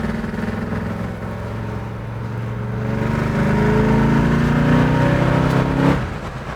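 A 1970 Chevelle SS454 muscle car engine rumbles steadily, its pitch climbing as it revs harder, then cutting off abruptly near the end; no voices.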